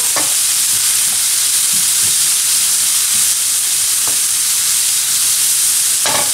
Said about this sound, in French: je peux colorer tout ça à feu vif